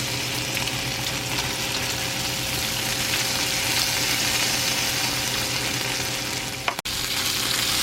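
Bacon sizzles and fries steadily in a pan while grease is scraped off it, a constant close crackle with a short sharp scrape or knock near the end.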